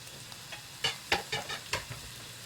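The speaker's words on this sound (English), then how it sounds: "Give that a good mix." Onions and capsicum stirred in a JML multi cooker while making lamb curry, giving a soft sizzle broken by about five quick scraping strokes of the spoon against the pot, fairly quiet and close.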